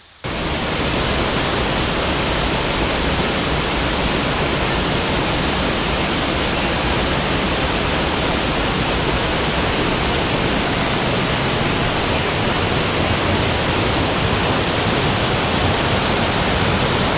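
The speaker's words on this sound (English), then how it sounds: "I love listening to the water flow down." River water rushes down a long waterfall-like descent in a rainforest setting, a loud, continuous, broadband roar that stays steady without any break and with no voices over it.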